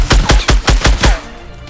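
Rapid burst of six loud gunshots from a weapon in the video game Fortnite, evenly spaced, then a short fading tail.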